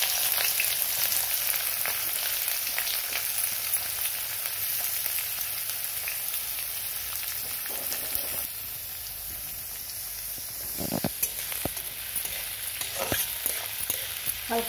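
Sliced onion and ajwain fry in hot oil with a loud, continuous sizzle, briefly broken by a few scraping clanks partway through.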